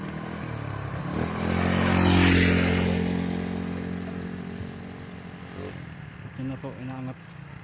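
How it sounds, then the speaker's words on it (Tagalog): A motorcycle labors up a steep hill climb, its engine swelling to a loud, strained roar near the two-second mark and then fading as it moves away. People talk nearby, and their voices grow clearer toward the end. "May motor,"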